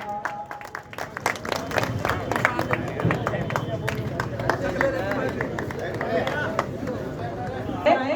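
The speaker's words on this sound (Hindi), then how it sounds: "जोरदार तालियों के साथ" Loud, sustained clapping from an audience welcoming a BJP leader at a political gathering, steady and crowd-wide with some murmuring mixed in throughout.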